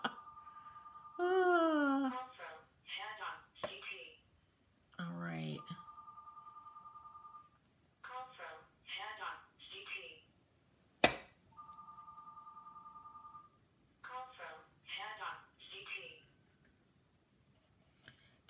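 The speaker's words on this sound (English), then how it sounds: "there goes my house phone, which I forgot to mute." A house phone rings in the background in repeated steady bursts while someone talks nearby while painting a small wooden jewelry box.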